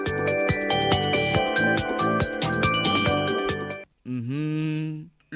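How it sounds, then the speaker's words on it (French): A telephone rings during a radio broadcast. A short, clear electronic ringing tone cuts in right after a burst of music ends. "Le téléphone sonne"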